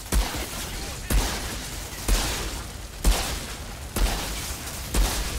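Repeated gunfire from the shooter video game Outriders, played as a Pyromancer: loud bursts land about once a second in a steady rhythm over a continuous roar of battle noise, with no talk.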